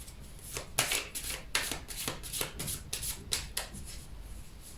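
Tarot cards shuffled and drawn in a steady run of soft riffling swishes and slaps, about eight or nine close strokes in quick succession with no voice.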